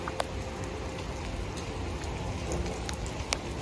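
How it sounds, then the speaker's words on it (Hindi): Heavy rain pours down outdoors on a rooftop during a storm, a dense, steady hiss of drops with occasional sharper individual hits, continuous and even, with no voices. "बारिश फिर आ गई जोर दी।"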